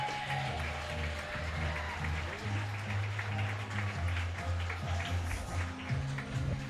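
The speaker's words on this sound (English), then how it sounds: "Please give a round of applause for Elba tennis, golf, softball, baseball, and track and field teams." Crowd applause at a minor league baseball stadium for a local high school's spring sports teams, a distant, steady clapping wash under low droning music or tones that runs throughout.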